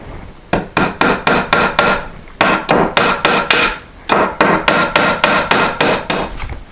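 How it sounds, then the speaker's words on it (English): A hammer drives finish nails into wooden nailing blocks during a laundry room door blocking job, loud and close, in three fast bursts of five to seven ringing blows with brief pauses between. "I have some nailing blocks up here, mostly in the front. I'm going to use some finish nails."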